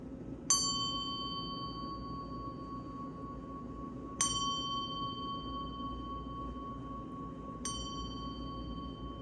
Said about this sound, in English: I think some of you want to hear this little bell.